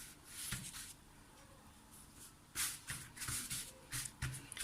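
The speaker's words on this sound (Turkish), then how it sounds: "Şimdi yufkamı şu şekilde ikiye katlıyorum." Yufka pastry dough sheet being folded in half for cheese börek, giving soft papery rustles and shuffles in a few short bursts, close and faint, with no talking.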